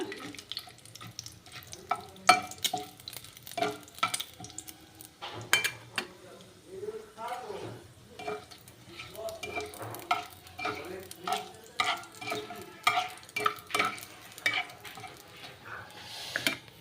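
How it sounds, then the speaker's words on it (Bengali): Bay leaves and cinnamon fry in hot oil for an egg curry and get stirred in a pan, with a soft, continuous sizzle under frequent clinks and scrapes of a utensil against the pan. "দুটো তেজপাতা দিয়ে দিয়েছি দারচিনি দিয়ে দিলাম"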